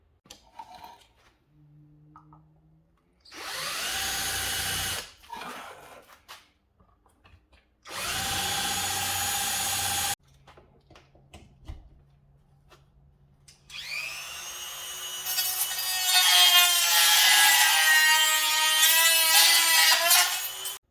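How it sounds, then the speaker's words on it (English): A power drill whirs in several separate bursts with quiet gaps between, followed by a longer, higher-pitched Dremel rotary tool grinding as it widens a hole. "let me go ahead and drill the hole and widen up the hole with my Dremel"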